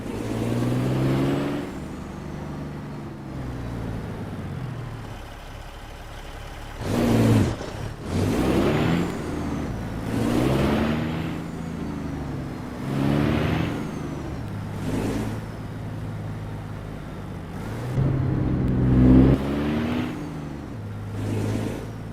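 Heavy truck engine in American Truck Simulator, hauling a cable reel toward Lawton, Oklahoma, droning steadily with repeated rising revs as gears are grabbed, loud and close with no talk over it.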